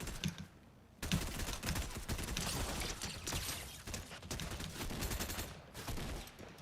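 Sustained rapid gunfire in the video game Honkai Star Rail fills several seconds with dense, loud bursts of shots, mixed with clicky keyboard-like tapping and game sounds.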